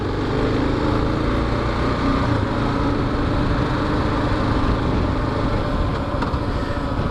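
A Kawasaki KLR motorcycle engine running steadily, a continuous close mechanical drone with no talking.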